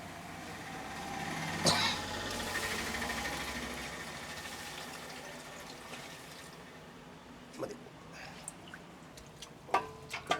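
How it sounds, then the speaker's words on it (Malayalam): Water poured into a simmering gravy in a home kitchen: a steady, gushing pour for a few seconds that fades away, followed by scattered clinks and light knocks. "വെള്ളം ഒഴിക്കണം"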